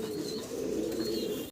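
A Danish pigeon in blue-bar colouring at a pigeon farm gives a steady, low throaty cooing drone, close and continuous, with faint higher bird sounds behind it before it cuts off abruptly.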